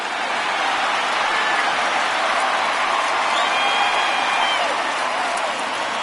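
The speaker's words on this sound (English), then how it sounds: "So he receives a nice ovation from this home crowd" A home crowd's ovation in MLB The Show 19 during a Tigers vs. Yankees game: a steady, dense wash of applause and cheering fills the whole stretch at an even level, like rain.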